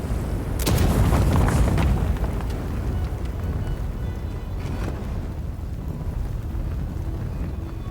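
A deep boom of a grenade explosion in the fantasy role-playing game Avowed hits early, then a long rumbling tail of crackle and debris fades slowly with no talk.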